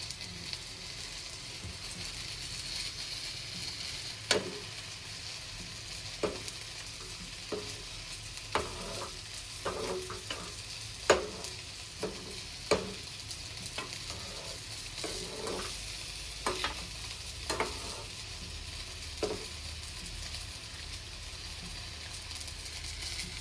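Jujubes simmer in boiling jaggery syrup under a soft, continuous bubbling sizzle. Irregular sharp scrapes and taps of a spoon stirring against the pan break through at intervals, and there is no talk.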